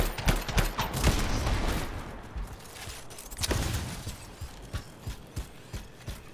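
Scattered shots and bursts of gunfire in the video game Anthem, a busy mix of sharp reports with no speech.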